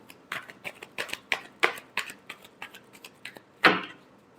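Tarot cards are shuffled by hand, a run of about a dozen quick papery riffles and taps with an uneven rhythm, close and fairly quiet, with a sharper final slap near the end.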